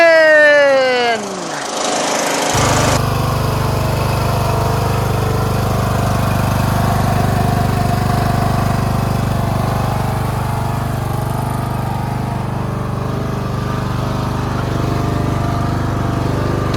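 A rebuilt Briggs 19.5HP engine on a John Deere LA110 riding lawn tractor starts up and runs steadily with a loud, rough mechanical drone and clatter that continues throughout.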